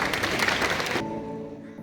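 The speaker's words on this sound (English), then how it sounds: "Please welcome our talented dance group to the stage with a huge round of applause" Audience applause greeting a dance group as it takes the stage at an Independence Day celebration, dense loud clapping for about a second that then cuts off to quieter background.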